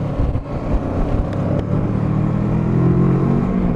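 A motorcycle touring through North Yorkshire, its engine droning steadily and swelling as it picks up speed during small wheelies, close and continuous with wind rush and no talking.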